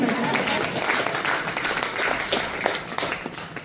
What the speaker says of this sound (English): You can clap. You can clap.